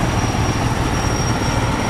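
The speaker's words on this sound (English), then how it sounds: "got this giant crane helicopter doing something over here" A giant crane helicopter flies overhead near Bear Mountain, producing a loud, steady rotor and engine roar with a sustained high whine throughout.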